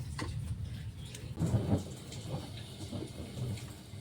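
Steady rain hisses close by, with a low rumble underneath and scattered drops pattering throughout.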